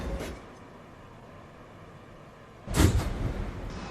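New York City subway shuttle train at the Lincoln Center station platform: a low, steady rumble of the train, then a sudden louder burst of mechanical noise toward the end, with no one talking.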